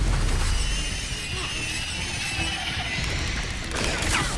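Spell-casting combat effects in Hogwarts Legacy, including Stupefy, Accio and Incendio, a dense crackling clatter of magical blasts and crashes, steady and loud, with no speech.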